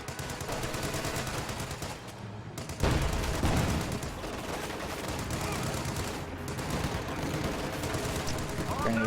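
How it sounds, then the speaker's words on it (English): MG-42 machine gun in a World War II strategy game, rattling bursts of rapid fire layered over dense battlefield gunfire and explosions, with a commentator talking over the din. "MG-42!"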